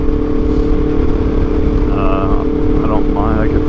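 An Aprilia RSV4 motorcycle's engine drones loud and steady while the bike is ridden, with wind rush and a rider's voice faintly over the constant hum.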